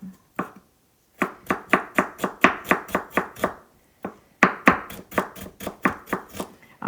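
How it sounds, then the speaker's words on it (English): A knife chops a tough, stringy root on a cutting board in a Japanese home kitchen, giving loud, close, crisp strokes in quick rhythmic bursts separated by short pauses. "traditionally people associate this chopping sound as like mom cooking dinner"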